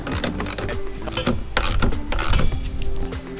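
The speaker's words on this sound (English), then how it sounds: "we're going to do up these bolts" Bolts are tightened on the base of a snorkel raised air intake, with continuous close metallic ratcheting clicks and clinks of a wrench working steadily.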